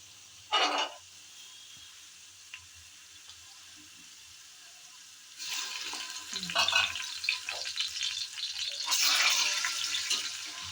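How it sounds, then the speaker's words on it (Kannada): Ginger garlic paste hits browned onions in a pan while cooking chicken biryani, a short clatter followed by a loud, rising hiss of frying with scraping stirs, close up and without talk. "ಈ ತರ ಕೆಂಪಗಾದ್ಮೇಲೆ ಶುಂಠಿ ಬೆಳ್ಳುಳ್ಳಿ ಪೇಸ್ಟ್ ಹಾಕ್ತಾ ಇದ್ದೀನಿ ನೋಡ್ರಿ"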